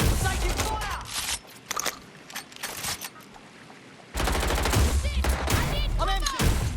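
Bursts of video game gunfire in Watch Dogs Legion, rapid loud automatic shots coming in clusters, with a voice talking over parts of the firefight.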